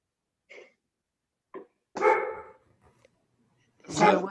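A dog barks several times during a virtual legislative committee meeting: short sharp yelps, then louder full barks, fairly close and loud, with no talk over them.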